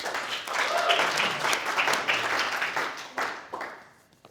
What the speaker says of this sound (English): Round of applause for Bagus, please.